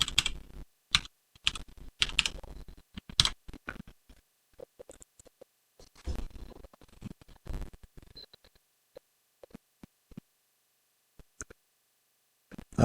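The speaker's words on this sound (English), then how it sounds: "type in password." Computer keyboard keys tapped while entering a password for Hikvision ColorVu camera settings, fast bursts of close, crisp clicks that pause and resume, with scattered single keystrokes toward the end.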